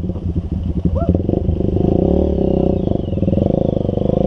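An enduro motorcycle works along a dirt trail in the Philippines, its engine close and loud with throttle bursts and a rough, pulsing drone, while people talk over it.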